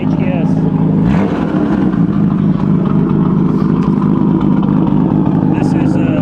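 A 2023 Nissan Z Proto Spec at an importer's open house in California roars with a very loud, sustained exhaust note from close by, with a brief surge near the start.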